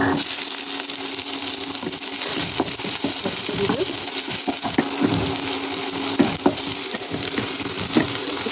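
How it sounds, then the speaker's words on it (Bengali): Sliced onions fry in a pan with garlic and mustard seeds for a semolina upma, giving a soft steady sizzle. Light scrapes and stirring clatter from a spoon come now and then, with a few quiet words in the background. "এবার আমি হালকা লাল লাল করে ভেজে নেবো পেঁয়াজটাকেও।"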